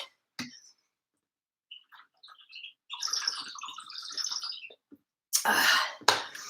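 High, chirpy squeaks from a drink container, sounding like a small bird, coming in scattered bursts with quiet gaps, followed by a louder rustling burst near the end.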